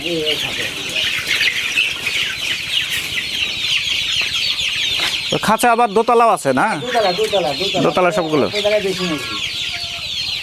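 Chickens in a large cage on a low-cost poultry farm cluck and squawk in a busy, overlapping chorus that grows louder and more agitated midway, while people talk nearby.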